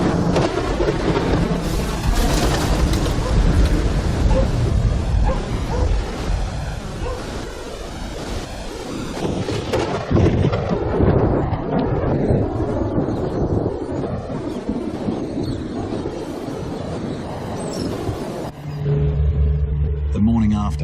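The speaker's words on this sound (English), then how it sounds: "At 9 p.m, Cyclone Ida makes landfall. The wind tears through town." Cyclone Ida making landfall at night in Cooktown, with a continuous loud roar of wind and storm, heavy rain and surging noise that rises and falls, while a voice talks over it.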